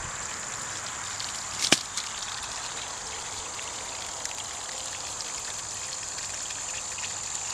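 Water sprays onto plants in a no-dig organic garden, a steady soft hiss of droplets pattering on leaves and soil, with one brief louder splash near the start.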